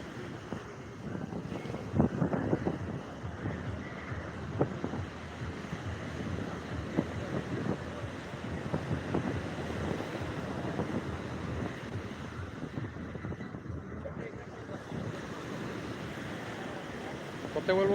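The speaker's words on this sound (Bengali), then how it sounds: "রীতিমতো জোয়ার চলছে প্রবল উত্তাল রয়েছে দীঘার সমুদ্র সৈকত" Rough surf pounds Digha beach at high tide, a steady roaring wash of waves mixed with gusty wind buffeting the microphone, distant and continuous.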